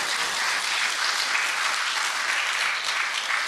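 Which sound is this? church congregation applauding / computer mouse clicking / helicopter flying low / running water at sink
church congregation applauding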